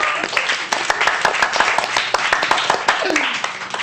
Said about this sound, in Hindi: तुसा मेरे से तालियां बजाओ